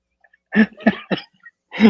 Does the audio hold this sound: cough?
yes